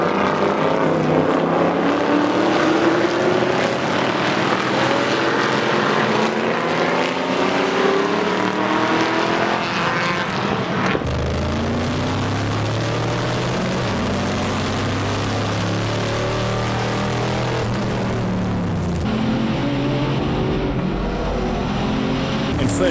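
Race cars at the start of the Backdraft 4-hour endurance race at Dezzi Raceway roar continuously, their engine notes rising and shifting as the pack pulls away, loud and dense throughout.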